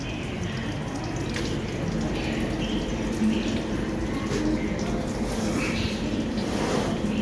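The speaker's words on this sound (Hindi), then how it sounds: "पता नहीं पानी कैसे अपने आप गिर रहा है।" Water runs and splashes steadily at a train at New Delhi Railway Station, a continuous wash of noise with faint background sounds mixed in.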